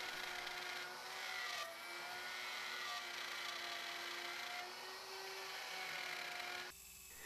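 A router with a bearing bit cuts a mortise in wood for a Japanese-inspired sawhorse, giving a steady high-pitched whine that shifts slightly in pitch as the bit bites, then cuts off near the end.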